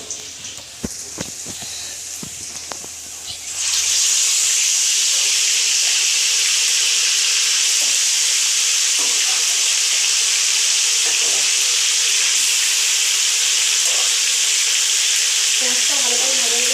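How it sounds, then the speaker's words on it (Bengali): Onions and a dried chilli hit hot oil in a wok, bursting into a loud, steady sizzle that fills the space and continues without pause after a few quiet moments of handling sounds. "এবার কড়াইতে যা তেল আছে ওই তেলের মধ্যে দিয়ে দেবো একটা শুকনো লঙ্কা, আর যে পেঁয়াজগুলো রেখেছি সেগুলোই দিয়ে দেবো।"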